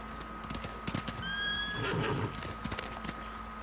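Horses whinny and gallop in the video game Ghost of Tsushima: a loud neigh rises at mid-clip amid rapid hoofbeats and clip-clop, with game ambience underneath.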